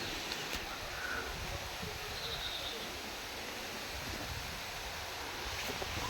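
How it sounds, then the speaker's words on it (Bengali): Strong wind blowing as dark clouds gather before rain, a steady broadband rush and buffet that stays even in level from start to finish. "কি বাতাস!"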